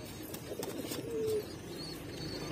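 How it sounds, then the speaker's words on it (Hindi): A pet pigeon bred for six-hour flights gives a short low coo midway, faint and close against quiet background rustle. "छः घंटे उड़ने का कबूतर है भाई"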